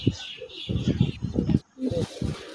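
Pigeons being kept by a hobby breeder, a male bird cooing in low, throaty repeated pulses, close by, with someone talking over it.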